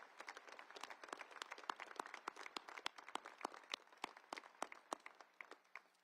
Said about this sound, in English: So how about a round of applause for the entire village that brought these cadets to where they are